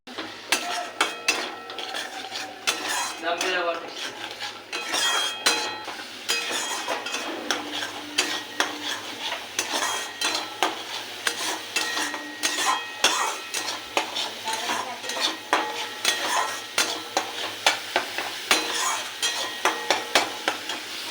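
Masala for hilsa posto stir-fries in oil, a continuous loud sizzle layered with frequent scraping and clinks of a spoon against the pan throughout.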